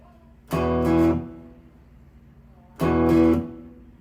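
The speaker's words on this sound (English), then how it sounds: "hitting the open strings, the open chord, twice, and then taking your hand and muting the strings to stop them from ringing" Two separate hits of an open chord on a cigar box guitar, each ringing briefly before being muted by hand, with a quiet pause between them; close and clear with no talking.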